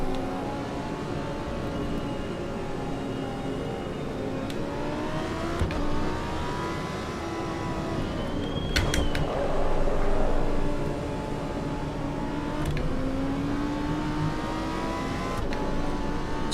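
A Honda NSX engine in the Assetto Corsa EVO racing game revs repeatedly, its pitch rising and falling through the gears in a steady loud drone, with a brief mechanical clatter midway and no talking.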